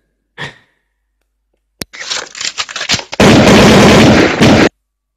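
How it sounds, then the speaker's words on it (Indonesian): A gunshot sound effect: a short sharp crack, then a ragged run of bursts building into a loud, dense roar of fire that cuts off abruptly, set against silence with no talking. "Ini ada tembakan"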